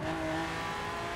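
A Lamborghini sports car engine revving up, a loud close steady tone with strong harmonics that holds and sustains across the short burst.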